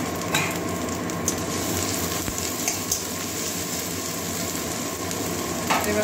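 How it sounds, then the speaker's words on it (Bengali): Onions with ginger-garlic paste frying in a pan on the stove, a steady, dense sizzle with faint stirring scrapes, close and continuous, with no talk. "পেঁয়াজ ভাজা হয়ে গেছে, এবারে আদা রসুনের পেস্টটা দিয়ে দিচ্ছি।"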